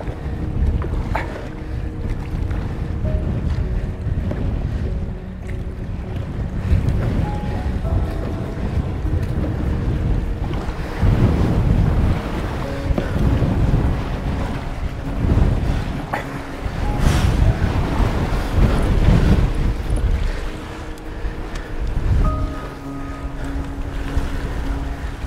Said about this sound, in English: Got really windy.